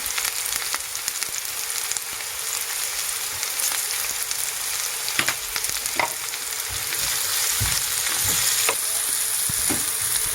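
Onions and peppers sizzle and hiss continuously in a hot pan while being stirred, with soft scraping through the frying.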